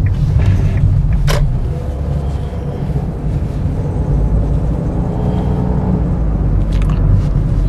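A car driven by a learner on a first-day driving lesson accelerates as the pedal is pressed, a steady low engine and road rumble that holds close and even, with a brief creak early on and no talking.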